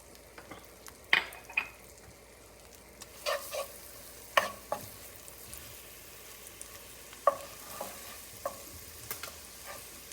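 Garlic frying in melted butter in a pan for a creamy broccoli-carrot soup: a low, steady sizzle broken by scattered scrapes and taps of a spoon stirring, with no one talking.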